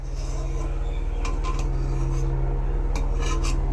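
Chopped bottle gourd pieces being rinsed by hand in a metal vessel, with steady close rubbing, scraping and clinking over a constant low hum, a few sharper knocks of pieces against the pot.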